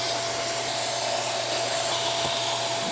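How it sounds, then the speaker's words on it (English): Vacuum cleaner sucking up ash from a Harman P Series pellet stove, a steady, loud, broadband whooshing roar with a faint constant whine, continuous and unbroken throughout. "I'm just going to vacuum this up before I do"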